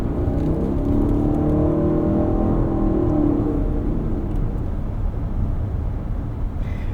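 A 2024 Lexus TX 550h+ plug-in hybrid cruising along a road, giving a steady, smooth low rumble of tyres and drivetrain with a soft whir that holds level throughout, with almost no wind noise.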